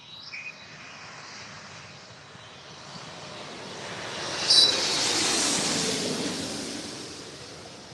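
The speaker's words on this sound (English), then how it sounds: "this is Korean Air Flight 11 coming in from Seoul" A Korean Air airliner arriving from Seoul, its jet engine roar swelling from a distant rumble into a loud, broad rush that peaks mid-clip as it passes overhead, with faint birds chirping early on.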